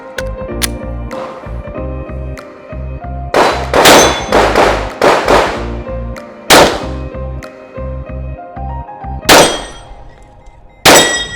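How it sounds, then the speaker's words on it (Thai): Glock 45 pistol shots ring off small, distant steel targets at a firing range: sharp reports followed by bright metallic clangs and pings, some in quick clusters and others spaced out, over a low steady hum. "เห็ดเล็กไกลๆนี่ยิงยากจังเลย"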